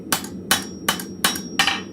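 A blacksmith at a forge strikes forged pieces to straighten them with five loud, sharp hammer blows at an even pace, each ringing briefly and close up.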